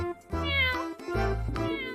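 Cat meowing, several clear, close meows in a row with short gaps between them, loud and alone with no talk over them.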